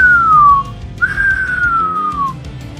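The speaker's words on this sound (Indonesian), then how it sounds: "suara siulan tak teratur dari sela bibirnya sampai saat itu masih mengumandang" Irregular whistling through the lips, a single pure tone that glides slowly downward in two long phrases separated by a short gap, close and clear over a low background rumble.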